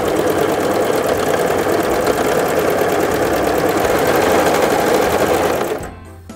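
A Brother CV3550 coverstitch sewing machine stitches fabric with a fast, rhythmic mechanical whir, loud and close, running steadily for about six seconds before stopping.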